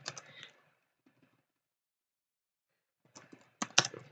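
A folder name typed on a computer keyboard in quick bursts of close clicky keystrokes, one short run at the start and a denser flurry near the end with quiet gaps between.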